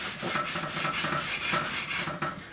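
Sanding a handmade Strat-style guitar fretboard with fresh 240 grit sandpaper on a 9.5 inch radius beam: close, rhythmic back-and-forth scratchy strokes, about eight in quick succession, with no talk.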